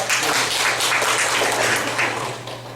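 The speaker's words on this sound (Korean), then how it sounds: "일단 박수 한번 주시죠." Applause from a lecture audience at Bucheon University, a dense steady wash of many hands clapping at moderate loudness with a low hum underneath, continuing without talk and easing slightly at the end.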